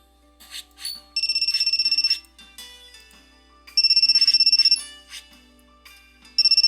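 A cell phone rings in The Fruit of Grisaia visual novel, a bright electronic ringtone sounding in three rapid trilling bursts with short quiet gaps between, clear and alone.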